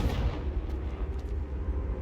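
In the Hogwarts Legacy video game, the Confringo spell goes off as a deep, booming blast with a rolling low-end rumble that fills the short moment, with no voices.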